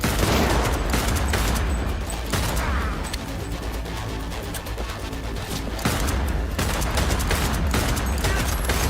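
Dense, continuous gunfire from a Cyberpunk 2077 firefight, with rapid overlapping shots, bursts and crashes filling all nine seconds loudly and without pause.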